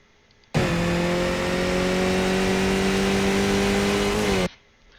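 A Skip Barber race car in the iRacing sim revs hard and steadily for about four seconds at the Nürburgring, the engine note climbing smoothly before cutting off abruptly at the end.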